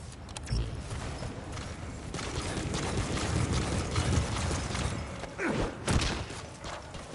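D-Horse, the player's companion horse in Metal Gear Solid V: The Phantom Pain, trots with a busy run of hoof thumps and clatter mixed into steady game ambience, a few heavier thuds standing out near the end.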